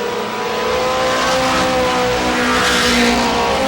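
Stock cars racing at Star Speedway in New Hampshire, a loud, sustained engine roar from several cars running together into a turn, building slightly toward the end with no voices over it.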